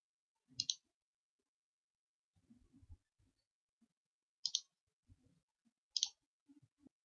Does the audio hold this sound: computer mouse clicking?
yes